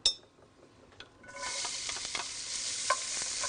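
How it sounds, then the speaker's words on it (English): Diced onion hits heated olive oil in a pan: after a quiet moment with a few light clinks, a sudden sizzle bursts in and holds as a steady close hiss, dotted with faint stirring clicks. "I've heated up a little bit of olive oil in this pan, and now I'm going to add some onion."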